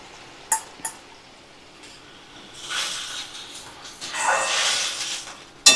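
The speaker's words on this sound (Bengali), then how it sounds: "তো দিয়ে ভালো করে আমি নাড়াচাড়া করে নেব।" Boiled mung dal stirred in a cooking pan, with scraping and swishing swells near the end after a few sharp utensil knocks against the pan, close and fairly quiet, with no talk.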